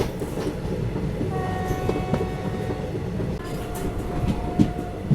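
An ICF-coach Pune-Amravati Express arrives at Purna Junction, its rolling wheels and clatter loud and steady while a long, sustained horn sounds over the rumble of the train.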